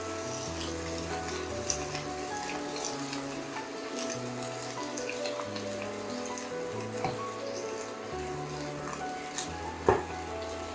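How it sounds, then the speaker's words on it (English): Egg kothu chapathi being mixed in a frying pan, a continuous sizzle with scraping and occasional sharper clanks, steady and close, with low background music underneath. "And mix this nicely."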